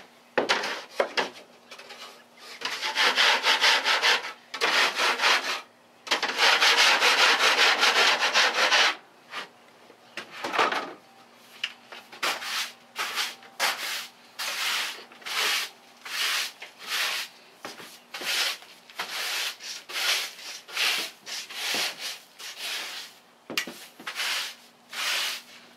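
Scraping a dirty wooden chicken coop floor by hand produces rough rasping strokes up close, first in long sustained passes and then in a rapid series of short, rhythmic scrapes.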